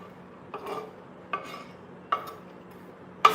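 Chopped onions and coriander are tipped into a bowl for a chicken sandwich filling, giving four separate clattering knocks of spoon and bowl, roughly every second, against a quiet kitchen hum with no talk.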